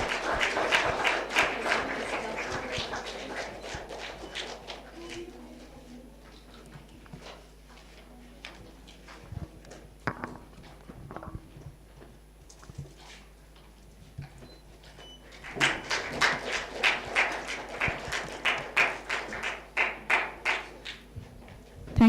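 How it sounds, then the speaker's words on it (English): Audience applause at a research methodology workshop, a burst of clapping at the start that fades into scattered taps, then swells again into a full round of applause near the end, moderately distant. "a big round of applause, everybody"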